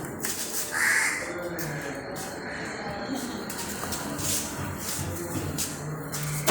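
A pet crow named Rupa caws in short calls close by, with people talking over a steady background hum.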